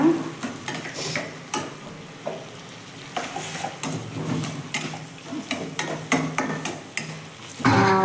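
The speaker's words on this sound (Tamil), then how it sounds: "இப்போ வந்து இஞ்சி பூண்டு பேஸ்ட் போட்டுக்கலாம். அதையும் நல்லா வதக்கிக்கோங்க." Ginger garlic paste sautés in a pan with a soft, steady sizzle as a spatula stirs and scrapes, producing irregular clicks and knocks against the metal, close by with no talk.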